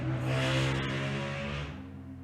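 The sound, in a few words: motorcycle going by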